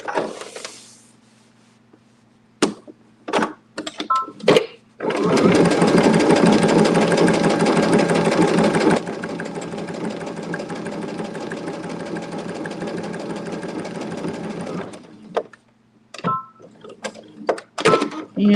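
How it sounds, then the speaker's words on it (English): Sewing machine doing free motion quilting on a fabric applique, a dense steady whir running for several seconds amid shorter stitching bursts and pauses, with light handling clicks around it. "Kind of a free motion quilting kind of process."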